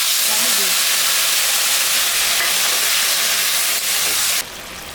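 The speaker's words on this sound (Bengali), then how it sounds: "আদা জিরা আর শুকনো লঙ্কা কাঁচা লঙ্কা মিশাই দিচ্ছি" Ginger, cumin, dried red chillies and green chillies being mixed into a frying pan of bitter gourd with fish head, giving a loud, steady hiss of frying close up that drops suddenly near the end.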